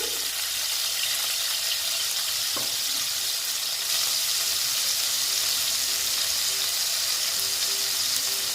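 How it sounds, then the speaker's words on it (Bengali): Paneer cubes frying with a little salt in a pan, a continuous bright sizzle with one faint knock of a utensil, steady and close throughout. "দিয়ে এগুলোকে আমি ভালো মতন ভেজে নিচ্ছি"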